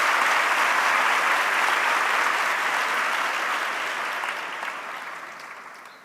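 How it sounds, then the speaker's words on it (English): Sustained audience applause for participants at a satsang gathering, a dense steady wash of many hands clapping that slowly fades toward the end. "A big round of applause to all of them."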